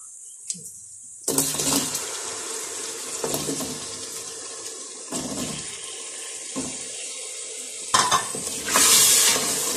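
Potatoes tipped into fried masala for a mixed vegetable dish, sizzling loudly in bursts while a spoon scrapes and stirs through the pan, with a brief quiet gap at the start and no talking.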